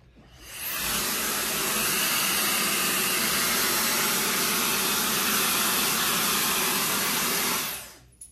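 Hair dryer running steadily on medium heat for curly hair styling, a loud continuous broadband whoosh starting abruptly, holding constant for several seconds, then cutting off near the end with no talking.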